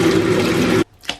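Water runs and pours steadily while a wool sweater is washed by hand, then cuts off abruptly, followed by a short, faint splash.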